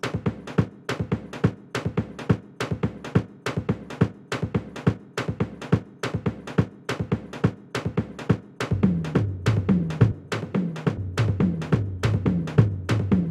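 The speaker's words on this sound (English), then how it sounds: "And then we have the tambourines," Tambourine loop in a hardgroove techno track produced in Ableton Live: steady, fast jingle hits in a driving repeated pattern, joined partway through by a thumping low bass line that keeps the same rhythm.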